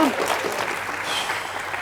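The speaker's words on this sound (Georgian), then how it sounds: "აპლოდისმენტები ილიას" A studio audience at a televised quiz show gives a contestant a short burst of steady applause, with a voice talking over the clapping.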